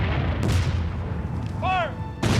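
A cannon fires at a Civil War reenactment in an Arkansas national park, one sharp loud boom followed by a short rumble, with a shouted command just before and a second blast starting at the end.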